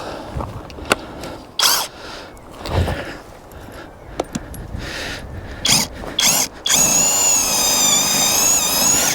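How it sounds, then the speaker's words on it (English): Tool clatter and short mechanical bursts, then a loud, steady whirring impact drill runs continuously near the end, close by. "let's see what happens with the impact drill"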